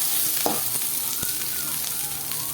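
Onions frying in hot oil for ridge gourd chutney give a continuous loud sizzle, broken by a few brief stirring clinks. The pan is close and no one speaks.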